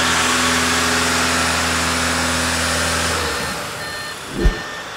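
An Audi car engine with a 0AW CVT runs during a transmission oil change, holding a steady elevated hum with tonal drone, then easing off and fading near the end with a brief thump.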